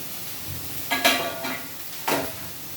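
Okra being stirred and tossed in a frying pan, a few scraping strokes of a spatula over a soft, steady sizzle, close and fairly quiet, with no talking.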